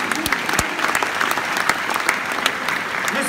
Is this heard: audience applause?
yes